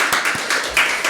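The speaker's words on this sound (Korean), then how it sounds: "우리 박수하겠습니다" A church congregation claps together after a hymn at a Sunday service. Short, rhythmic bursts of clapping come at an even pace, fairly close.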